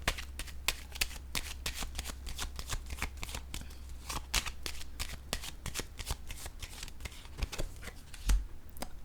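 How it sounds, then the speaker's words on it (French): Tarot cards flicked, snapped and laid down one after another in a quick, steady run of crisp close-up slaps and riffles, with no voices. "Je vais déposer une carte sur le cadeau."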